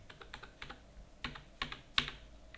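Keys clatter in quick bursts on a computer keyboard while entering data in Tally Prime, soft and close, with a few firmer presses near the end.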